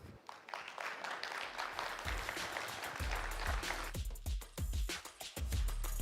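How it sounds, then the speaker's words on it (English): A conference audience claps at a livestreamed event, starting as a scattered patter and building into fuller applause with distinct sharp hand claps toward the end, heard from fairly close. "let's give Jito Foundation one more round of applause, everybody"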